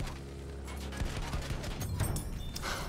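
Battlefield 1 gunfire, a busy stretch of repeated shots and crackling bursts over a steady droning battle backdrop, fairly loud and continuous with irregular rhythm.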